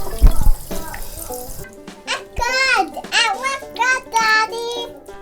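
Water running from a homemade DIY bathroom faucet, a steady close splash under a child's chatter that comes in short bursts.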